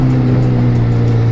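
A BMW M5 idles loud and close, a deep, steady engine drone that holds even with no revving.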